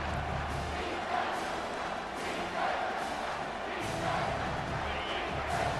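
A football stadium crowd at a Nebraska versus Wisconsin game roars in a sustained, distant wash of cheering and shouting that swells in waves.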